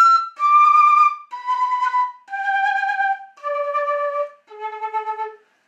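Pennywhistle playing a descending series of sustained notes, each held with a noticeable wavering vibrato, clear and close with short gaps between notes.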